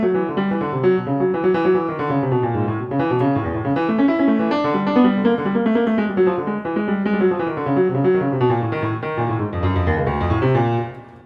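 Improvised jazz piano in a low register, a dense, busy stream of rapid notes tumbling together in a continuous babbling line, played close and fairly loud before ending abruptly.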